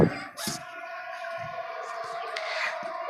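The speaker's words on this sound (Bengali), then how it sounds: "আর এখানে আছে আমার এই যে ফাউমি মোরগ দেশি একটা মুরগি" A Fayoumi rooster on a rooftop chicken farm gives a long, drawn-out crow close by. A few short thumps and faint background noises come before it, and there is no speech.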